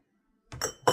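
Glass pint canning jars clink together in two quick, close, bright taps after a brief silence.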